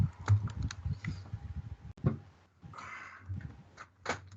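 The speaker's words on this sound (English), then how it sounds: "I think I need to get my keyboard out of here." A computer keyboard being shifted and handled at a desk gives a few scattered knocks, taps and soft scrapes, close up and irregular, with quiet gaps between.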